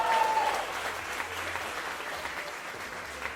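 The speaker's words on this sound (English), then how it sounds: "your prize is a big round of applause from the audience" Big round of applause from a matinee show audience, dense steady clapping throughout at a constant level, with a brief tonal whistle-like note at the start.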